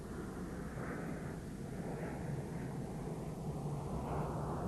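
Red Arrows jets flying overhead in the nine-aircraft Big Vixen formation at an air display, a steady distant roar of jet engines that holds evenly throughout with no voices.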